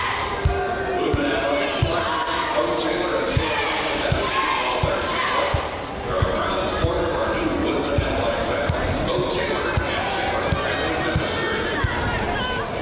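Crowd noise from a packed high school basketball gym during a boys/girls double header, with a steady roar, voices and a student section, ball bounces thudding repeatedly throughout.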